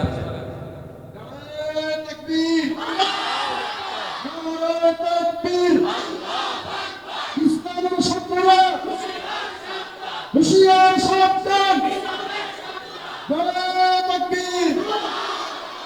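A crowd repeatedly shouts the Nara-e-Takbir slogan in rhythmic call-and-response bursts after a leader with a microphone, loud and chant-like at a Bengali religious gathering in Sylhet.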